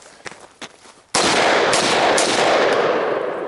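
A single loud gunshot fired into a puddle outdoors on an overland training course cuts in abruptly after a few faint taps and holds a sustained, dense burst of spray and splash noise to the end.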